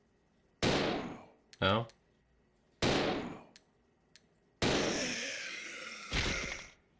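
Loud gunshots from a Resident Evil game fire in three widely spaced bursts, each followed by short metallic clanks and a long ringing tail, with a brief spoken word between them.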